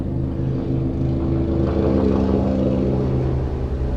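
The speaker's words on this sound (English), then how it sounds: "I think that's a helicopter." A helicopter flies outside a building, its low rotor thump and engine drone steady and prominent for a few seconds, with no talking.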